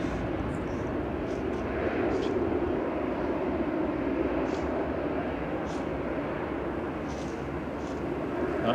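Passenger jet arrived from Alicante taxiing at Manchester Airport: a steady, distant low engine rumble that holds level throughout, with faint high whistles now and then.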